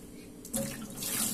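Tap water runs into a sink while a sea bass fillet is being cleaned, a steady hiss that grows louder and splashier as the flow hits the fish and basin.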